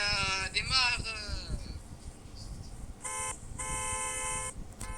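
Car horn honking in the Roblox video game, sustained electronic horn blasts in two long bursts in the latter half, following excited talking and warbling game tones.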